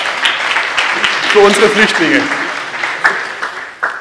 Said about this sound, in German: So, herzlichen Applaus für